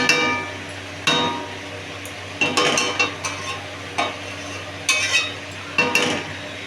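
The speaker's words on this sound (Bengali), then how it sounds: "কুমড়োটা দিয়ে দেবো একটু তেলটা। কুমড়োটা দিয়ে দিলাম বন্ধুরা। এবার আর একটু নাড়িয়ে" Pumpkin pieces sizzle in hot oil in a pan while a utensil stirs them, striking and scraping the pan in repeated sharp clinks roughly every second over a constant frying hiss.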